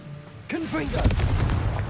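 The Confringo blasting spell in Hogwarts Legacy goes off with a sudden loud burst, followed by a warbling magical whoosh and a rumbling explosion that trails away.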